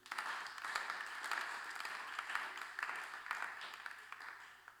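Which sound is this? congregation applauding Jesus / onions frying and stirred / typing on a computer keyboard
congregation applauding Jesus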